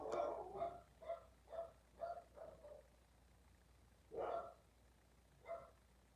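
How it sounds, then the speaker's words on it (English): A dog barks in a quick series of sharp, distant barks, pauses, then barks twice more, faint against a quiet background. "my dog's barking"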